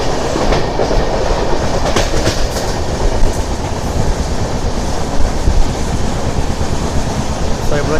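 Passenger train on the Tirupati to Varanasi Maha Kumbh Mela special, running past Kottam railway station without stopping, with a steady, loud rumble and clickety-clack of wheels on the rails throughout.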